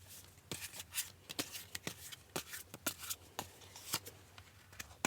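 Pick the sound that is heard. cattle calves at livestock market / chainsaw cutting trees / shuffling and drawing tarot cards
shuffling and drawing tarot cards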